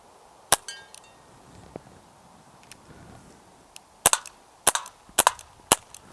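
Walther CP88 Comp semi-auto air pistol firing: one sharp crack near the start, a couple of faint knocks, then a rapid burst of about six close, loud shots in quick succession with no talk.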